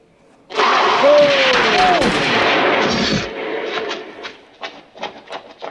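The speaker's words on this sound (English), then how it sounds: "Good shooting, boys." Gunfire from a scene in the horror film An American Werewolf in London: a loud, sustained burst of shooting with shouting voices mixed in, then fading into scattered sharp shots.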